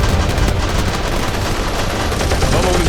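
Heavy gunfire in a war scenario, dense continuous bursts of automatic and rifle shots with booming blasts, loud and close, with shouting voices mixed in.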